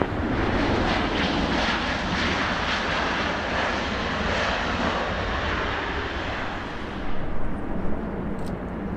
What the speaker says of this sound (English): Runway 24 left, clear for takeoff.